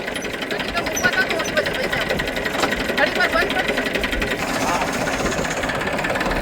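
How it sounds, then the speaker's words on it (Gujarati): A tractor engine chugs steadily with a rapid mechanical rhythm, running continuously throughout, with faint voices in the background. "ટેક્ટર ચાલુ કરી દીધું છે"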